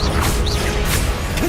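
An Expelliarmus spell cast in the Hogwarts Legacy video game, a short, dense magical whoosh with crackling and swishing layers, loud and continuous throughout.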